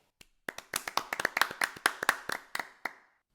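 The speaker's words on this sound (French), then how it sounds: "Sa plus belle roue mérite des applaudissements." Hand clapping in a French children's audio story, applauding a peacock's fanned tail: about fifteen sharp, distinct claps in an uneven, slightly accelerating burst, close and fairly loud, ending with a few spaced claps.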